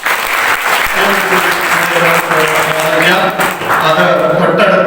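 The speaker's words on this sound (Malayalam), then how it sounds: "വലിയ കയ്യടി." An audience applauds loudly and steadily at a college felicitation event for alumni in Vadakara. Dense, continuous clapping fills the whole moment, with a voice faintly underneath.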